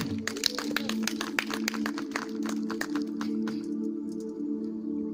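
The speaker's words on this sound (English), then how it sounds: "Clap hands for Jesus." Church congregation clapping hands in a fairly steady rhythm, the claps sharp and closely spaced over a sustained organ-like drone, tapering off toward the end.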